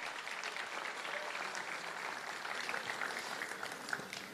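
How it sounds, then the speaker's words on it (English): A live audience claps steadily for K–5 child performers at a youth talent show, a dense, continuous wash of applause held at even volume throughout with no voices on top. "Let's give them a round of applause for our K through 5 division."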